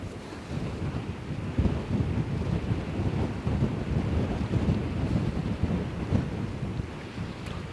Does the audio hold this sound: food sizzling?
no